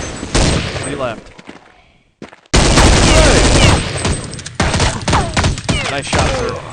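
Counter-Strike 1.6 gunfire: bursts of rapid automatic shots and single cracks, loud and close, broken by a short silent gap, with brief game voice lines mixed in.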